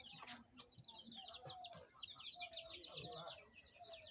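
Chickens cluck softly in a yard as a small girl watches them, faint scattered clucks and chirps, with quiet background voices and birdsong.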